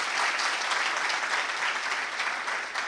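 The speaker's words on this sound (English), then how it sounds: "Let's give him another round of applause" Dense, sustained audience applause at a gala honouring footballer Asamoah Gyan, loud and even throughout with no talking over it.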